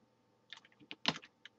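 Light clicking of a computer keyboard during a cut-and-paste task: a short, uneven cluster of quick keystrokes and key taps, close and fairly quiet in a still room.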